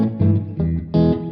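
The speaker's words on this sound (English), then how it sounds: "little short delays to be more like a room slapback. Sort of like a room space" Guitar played through a Walrus Audio Slöer reverb pedal set for a short room reverb: three distinct sustained chords ring out in turn, each with a brief slapback ambience, loud and close with no talking.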